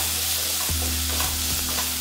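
A small tomato frying and being stirred in a pan with a steady sizzle, with a few scraping stirs of a utensil partway through.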